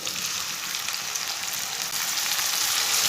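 Chopped green chillies and tomatoes fry in a pan with a loud, continuous close-up sizzle that holds steady and swells slightly toward the end, with no voices.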